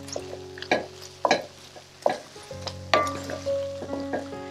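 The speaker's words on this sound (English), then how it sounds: "Give it a stir" Canned salmon seasoned with freshly ground black pepper being stirred in a sizzling pan, with several distinct scraping strokes of a utensil at irregular intervals over a soft, faint frying hiss and clinks.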